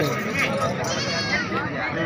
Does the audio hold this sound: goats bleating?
yes